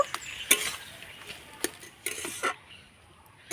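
A few scattered scrapes and light clinks of a spoon stirring curry leaves in a pan, quiet and intermittent with pauses between strokes.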